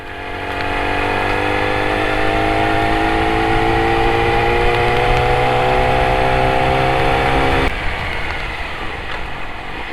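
A Yamaha R1 big bike roars steadily while riding, a loud continuous engine drone with a slowly rising pitch that drops off sharply near the end, close and with no voices.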